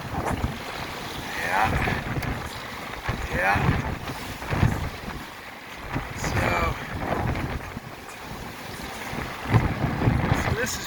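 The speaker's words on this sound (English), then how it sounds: "here's a rogue wave coming up. Gonna probably splash the front right now" Wind buffets the microphone aboard the sailboat Baraka off the New Jersey Atlantic coast as waves surge and splash against the bow in repeated washes, with a brief voice heard.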